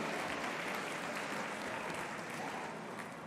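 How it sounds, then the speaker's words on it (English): Audience applause fills an engineering awards ceremony, a dense, steady wash of clapping that carries at even strength and tapers only slightly at the end, with no voices over it. "can we please give another round of applause to Baigen Group?"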